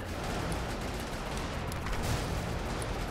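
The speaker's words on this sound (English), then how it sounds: "That big gun's got quite a reload time. But there we go. That's the explosion that we want." A tank's big gun fires in the Brigador video game, followed by an explosion: a dense, loud, rumbling blast texture that carries on steadily with a few sharper cracks mixed in.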